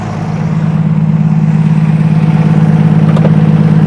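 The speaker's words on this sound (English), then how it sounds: "I'm gonna turn the engine off" A 2025 Newmar Super C motorhome's engine runs at a steady idle, a loud, constant low rumble with no speech over it.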